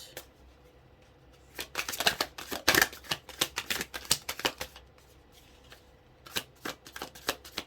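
Tarot cards shuffled by hand in several quick riffling bursts separated by short pauses, crisp and close, with no talking during the shuffle.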